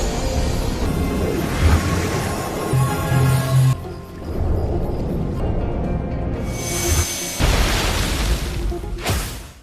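Explosions erupt in an animated fantasy series as a true thunder essence blast is unleashed. Rumbling booms and crackling bursts churn loudly for several seconds, with a sharp blast swelling near the end.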